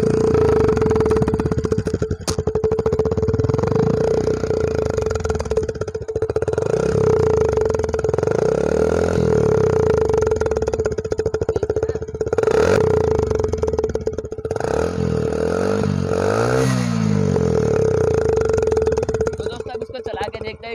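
A loud Hero Platina motorcycle engine, modified to sound like a KTM Duke, revs repeatedly, rising and falling in pitch with throaty bursts over a steady drone, with occasional clatter and people talking underneath.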